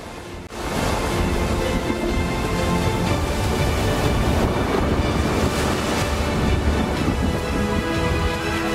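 Heavy rain and rolling thunder as a storm sound effect, a loud, dense, continuous roar that starts abruptly after a brief quiet moment and holds steady throughout with no voices.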